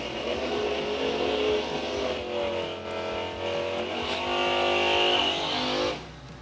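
Drag-racing door cars idle and rev in the water box before burnouts, several engines rumbling together with a steady loud roar that rises and wavers, then drops off abruptly near the end.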